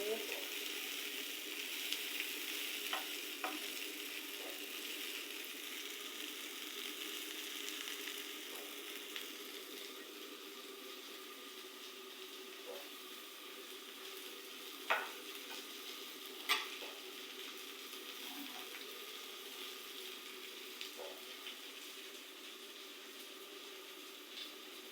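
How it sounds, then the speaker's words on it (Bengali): Food frying in a pan for lunch makes a faint, steady sizzle, with a few soft ticks and scrapes of a utensil stirring it now and then. "আমি একটু একটু করে নেড়ে চেড়ে দিচ্ছি।"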